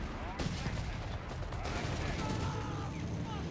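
A .30 cal machine gun fires in Company of Heroes 3, heard as bursts of rapid shots at moderate distance, with a faint continuous din from the battle behind them.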